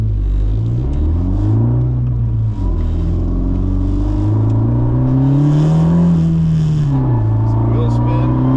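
A 10th-generation Honda Civic Si pulls hard on the highway, the engine droning loud and close from the cabin as revs rise and fall with each upshift.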